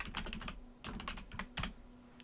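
Rapid typing on a computer keyboard, close and clear, in short bursts of clicking keystrokes separated by brief pauses, with no talking.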